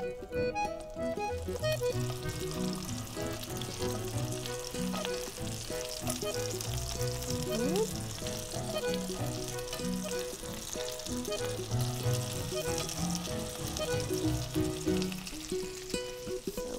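Swedish meatballs frying in butter in a crowded pan, a dense, steady crackling sizzle with popping spatter running continuously, with what sounds like faint music underneath.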